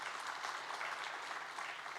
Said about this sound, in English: You can give a round of applause for him.